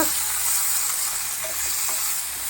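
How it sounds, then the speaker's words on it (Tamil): Okra sizzling and sautéing in a hot pan, a constant close hiss with faint stirring. "இதை சேர்த்துட்டு நல்லா வதக்கி விட்டுக்கோங்க"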